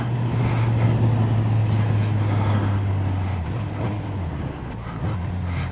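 A 2018 Suzuki GSX-S1000 motorcycle ridden on the road toward Thetford: a steady droning engine note under wind rush that drops in pitch at a single gear change midway, then settles again.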